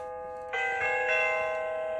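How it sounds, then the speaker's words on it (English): An Xflyee 18-inch oversized digital wall clock plays its chime, a clear sustained electronic tone that steps up and then rings on steadily, close and alone with no talk. "that is the chime that would go off on it"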